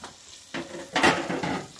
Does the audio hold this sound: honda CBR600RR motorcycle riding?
no